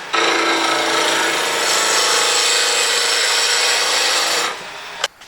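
Wood spinning on a lathe under a skew chisel gives a steady, loud, close hiss and rasp of continuous cutting that runs several seconds, then cuts off, followed by a brief sharp knock.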